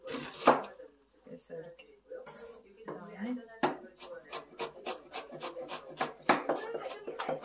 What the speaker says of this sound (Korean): 양파는 아주 곱게 채를 썰 거예요.